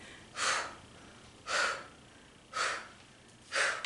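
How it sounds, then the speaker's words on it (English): Four heavy, evenly spaced exhalations from a workout instructor, each a loud breathy burst about a second apart, close to the microphone with no talk. "I'm breathing like this so that you know, do not hold your breath."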